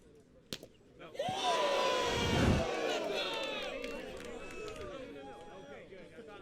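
A crowd at a Spikeball roundnet pro finals match erupts in loud cheering and shouts that swell quickly, peak, then trail off into sustained murmuring and scattered calls, with a sharp slap-like hit just before.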